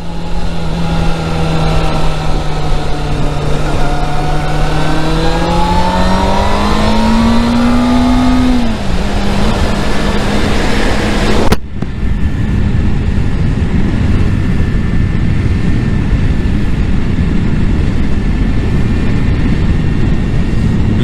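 A racing motorcycle with a stock exhaust revs loudly and close by, its steady engine drone rising in pitch before an abrupt change to a rougher, lower roar.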